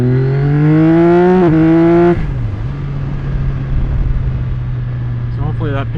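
A Yamaha R9 motorcycle accelerating in second gear from around 2,500 RPM, a loud rising engine drone climbing in pitch before a shift drop to a steady lower hum.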